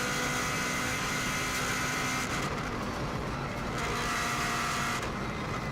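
Subaru WRX STI engine runs flat out on an Isle of Man hillclimb, a loud, continuous, dense roar with brief dips and surges as the car shifts and corners, recorded close from onboard with no voices.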